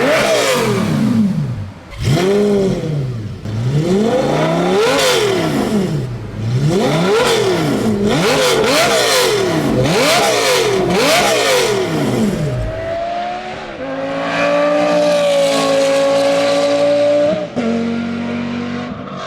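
A Lamborghini Gallardo with a newly fitted muffler revs hard repeatedly, the engine note climbing and falling in a rapid rhythmic series, then holding a steadier high drone; loud and close throughout.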